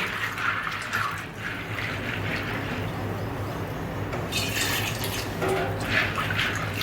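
Water sloshes and trickles as raw peanuts are rinsed by hand, with intermittent splashing bursts over a low steady background.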